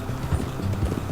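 Horse hooves in Red Dead Redemption 2 clip-clop in a quick uneven rhythm, soft and muffled, over a low background rumble.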